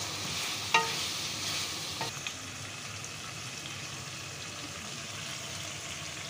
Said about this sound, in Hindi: अभी हम इसे भूनेंगे, तब 1-2 मिनट मोले बनाई करेंगे इसकी